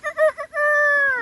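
A person imitating a rooster's crow, a few short clipped syllables followed by one long drawn-out sustained call, close and clear.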